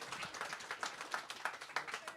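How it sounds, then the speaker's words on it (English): Scattered clapping from a small audience, a few sharp claps standing out over a soft murmur of hands, fairly quiet and steady throughout. "Let's give Kelly a round of applause"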